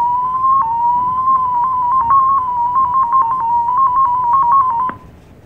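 Thor 11 digital radio mode tones played through FLDIGI software: a loud, warbling single-tone sequence stepping rapidly in pitch for about five seconds, with sharp clicks near start and end, then a quiet tail.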